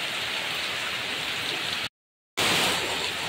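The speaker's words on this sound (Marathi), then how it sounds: "आता बघा जोरात पाऊस आला, जोरात" Heavy rain pours down loudly and steadily in a Konkan village, a dense, even hiss that cuts out briefly before resuming just as strong.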